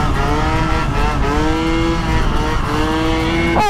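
A scooter with a seized booster revs hard and accelerates, its engine whine climbing and falling in repeated close, loud pulls with no talking over it.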